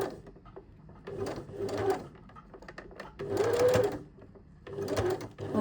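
A sewing machine stitches a collar seam in short bursts, a rapid whirring chatter starting and stopping several times with quiet pauses between runs, fairly close and clear.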